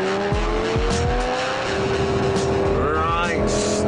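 A Lamborghini Gallardo Superleggera and a Ducati 1098 brake hard from speed, close and loud: a steady engine drone with shifting whine and brief tire squeal, ending in rising revs.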